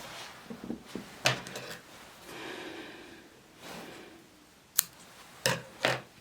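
Scissors snipping yarn after a crochet granny square vest chain, a few close, sharp cuts spaced apart with soft handling and rustling of the yarn between them.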